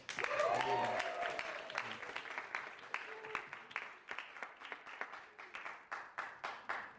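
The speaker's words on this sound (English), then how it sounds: "Quick round of applause for the topic." Live podcast audience at an event on building a personal brand breaks into applause, loud and dense at first, then thinning into scattered claps and fading over several seconds, with a voice briefly audible early on.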